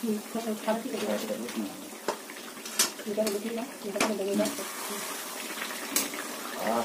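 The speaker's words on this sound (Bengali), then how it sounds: "নাড়া দিয়ে দেবো," Chicken kosha being stirred in a frying pan, with scraping and clinking of a utensil against the pan over a soft wet sizzle, up close, while someone talks.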